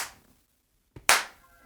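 Two sharp hand claps ring out close and crisp, the first as a faint tail at the very start and the second loud and clear after a near-silent pause, with a small tap just before it.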